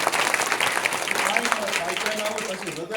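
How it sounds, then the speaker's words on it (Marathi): Villagers at a kirtan devotional gathering clap vigorously, a lively burst of applause with a voice speaking over it, fading slightly toward the end. "आणि एक मुलांच्या कौतुकापेक्षा यांना ज्यांनी घडवलंय त्यांच्याकरता जोरदार टाळ्या वाजल्या."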